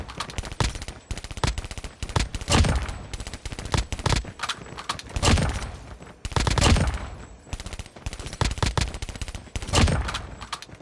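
Repeated bursts of gunfire in the mobile shooter Call of Duty Mobile, quick clusters of sharp shots coming in irregular waves with brief gaps between them, fairly loud and close, with no talk over them.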